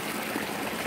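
Creek water flowing over rocks at night, a steady broadband rush and trickle heard close and continuous, alone without voices.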